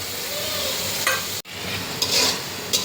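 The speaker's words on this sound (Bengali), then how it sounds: "এখন টমেটোটা একটু ভাজা ভাজা হোক" Tomatoes sizzle in a pan with a constant hiss while being fried down before loitta (Bombay duck) fish is added, and a few short scraping stirs break through; nearby, no talking.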